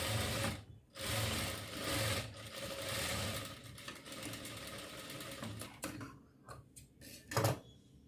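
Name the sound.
sewing machine stitching a baby frock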